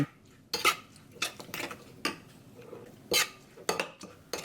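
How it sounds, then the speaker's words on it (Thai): Spicy, sour lime dressing being mixed in a bowl for a Thai pork-with-lime dish, heard as irregular clinks and scrapes of a utensil against the dish, close and moderately loud, in short separated bursts. "นี่ผสมคลุกเคล้าให้เข้ากันนะคะ"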